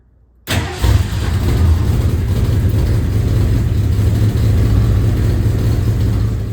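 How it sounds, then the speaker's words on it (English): A 1973 Ford Mustang Mach 1 cranks briefly after a moment of silence, then fires and settles into a loud, steady idle. "let's go ahead and leave in that note and crank it just one more time"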